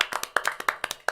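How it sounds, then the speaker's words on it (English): Hands clap at a family music event in quick paired beats, crisp, close and fairly sparse, like a few people keeping rhythm rather than a full roaring crowd. "Give a round of applause"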